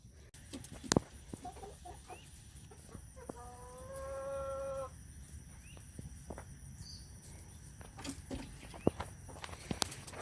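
Chickens in a backyard coop, being fed zucchini scraps, give scattered clucks and calls over a steady insect and cricket chorus, with a short harmonic call mid-way and occasional footsteps nearby.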